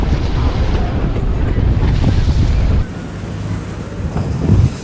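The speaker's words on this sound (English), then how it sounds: "We're on a tourist boat right now." Tourist boat on the open sea with its engine running, a steady low rumble buried in loud wind buffeting and wave wash, constant and close throughout.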